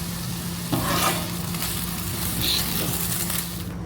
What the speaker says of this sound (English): throw it on the grill